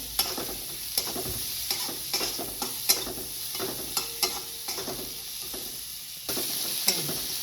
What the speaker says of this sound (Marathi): हा कांदा मी आता भाजून घेते कांदा आपल्याला मऊ होईपर्यंत भाजायचा आहे तेलामध्ये